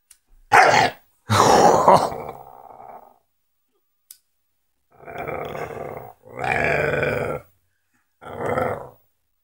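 A dog growls in several separate deep, rough bursts, close up, with short silent gaps between them.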